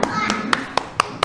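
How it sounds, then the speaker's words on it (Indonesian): Children in a classroom clap in unison with about five sharp, evenly spaced claps, heard close over a murmur of young voices. "5 jari kanan, 5 jari kiri, digabung jadi 10, jadi tepuk tangan"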